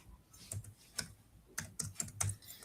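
Computer keyboard typing during a coding lesson, about eight quick, crisp keystrokes in loose bursts, close but fairly quiet, with no talking.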